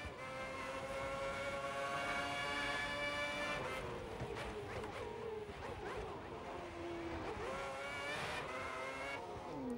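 Formula 1 car in the racing game F1 2010, a continuous high-pitched engine whine rising and falling through gear shifts, loud and steady throughout with no talking.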